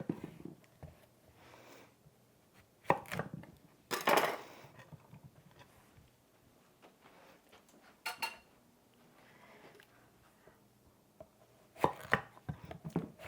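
Knife chopping zucchini on a cutting board, scattered clusters of sharp knocks and clicks with quiet gaps between, fairly faint and close, no talking.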